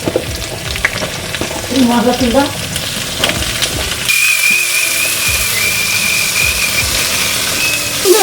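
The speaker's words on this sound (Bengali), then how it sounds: "এর সাথে একটু ভাজা ভাজা করে নিই" Loud, continuous frying sizzle of potatoes and pointed gourd with occasional stirring scrapes, growing into a bright hiss in the second half.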